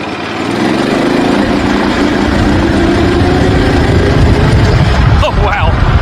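A VW Bus go-kart engine running loud and close with a steady rough drone as the kart drives, its pitch shifting slightly near the end, while someone talks over it.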